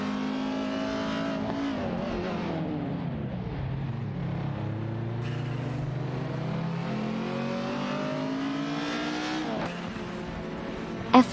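AI-driven race cars, including a Skoda 130RS and a BMW 2002, duel in a racing video game, engines revving loudly and continuously with rising and falling pitch as they push through gear changes, no voices.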